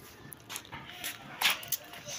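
A dog outdoors gives a few short, faint yips and whimpers spread across the moment, with light footsteps and soft background noise around it.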